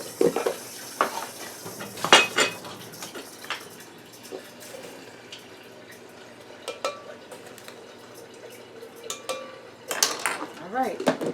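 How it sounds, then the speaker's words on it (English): A tablespoon measures brown sugar in a home kitchen, giving scattered light clinks and taps of metal against a bowl and containers, with sharper clatters at the start and end and quieter scraping between. "Now we're going to measure 2 tablespoons of brown sugar"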